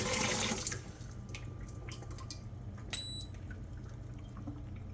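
Hot water running from a household tap fed by a heater set at 120, a soft continuous splash and trickle with a few drips, faint and close, with a brief high electronic beep partway through.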